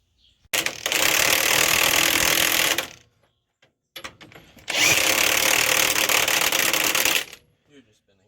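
An impact wrench tightens leaf spring bolts on a pre-war Silversides, running in two loud, close bursts of about two seconds each, separated by a short quiet pause.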